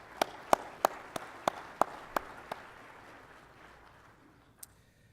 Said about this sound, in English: So a round of applause for all of yourselves for attending today